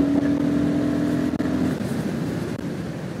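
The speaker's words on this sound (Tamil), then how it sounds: "ஒரு 80 வந்துட்டு த்ராட்டில் பண்றேன் பாருங்க, எவ்வளவு குயிக்கா ஏறுதுன்னு மட்டும் பாருங்க." Royal Enfield Guerrilla 450 motorcycle accelerating in sixth gear, a steady low engine drone mixed with rushing wind noise, heard up close from the rider's position.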